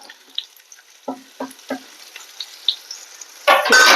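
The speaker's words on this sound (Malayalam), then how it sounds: "നന്നായിട്ടൊന്ന് മൂപ്പിക്കുക." Coriander, turmeric and pepper powders roasting in a pan for beef curry: a few soft spoon scrapes and taps over a quiet background, then a sudden loud sizzling burst near the end.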